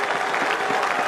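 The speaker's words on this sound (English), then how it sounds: "Take a bow. Great applause." Stadium crowd at a Bangladesh–Australia one-day international applauds a batsman's century, a brief burst of dense, distant clapping and crowd noise.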